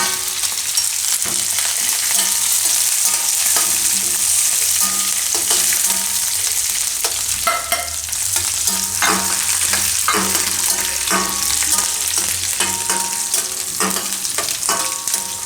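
Almonds, cashews and curry leaves frying in hot oil, a loud continuous sizzle close by with irregular stirring scrapes throughout and no talking.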